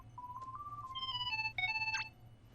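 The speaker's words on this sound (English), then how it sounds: "It's actually a ringtone." A phone ringtone plays in Kingdom Hearts 3, a bright electronic melody of clear tones stepping up and down for a couple of seconds, ending in a quick rising flourish over a low game hum.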